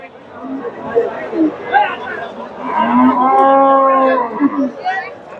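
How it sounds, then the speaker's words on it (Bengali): At a busy cattle market in Bogura, a Friesian cow gives a long, loud, nearby moo, with people talking before and after it. "এখানে একটা গাভী দেখতেছি ফ্রিজিয়ান গাভী"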